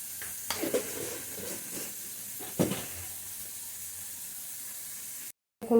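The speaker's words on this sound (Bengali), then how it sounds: "পেঁয়াজটা কীরকম ভাজা হয়েছে, একটু বাদামি রঙ ধরে এসছে" Onions fry in fish oil with a little sugar, a soft steady sizzle with a couple of sharp stirring clatters early on, then a brief cut before the sizzle returns.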